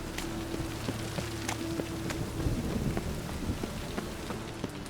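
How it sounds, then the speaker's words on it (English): A steady rainstorm hisses in the video game The Witcher 3: Wild Hunt, with dense drops pattering nearby and low thunder rumbling underneath. No voices are heard. "A storm, damn it."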